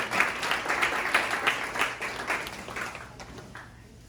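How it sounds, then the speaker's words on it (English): A room full of people at a new educator academy gives a steady round of applause to the week's helpers, moderately distant, fading out at the end with faint talk underneath. "give a nice round of applause to them for helping us all week long"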